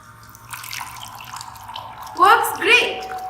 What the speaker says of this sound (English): So every time I place my mug in front of this IR sensor, I want the water to flow through this tap.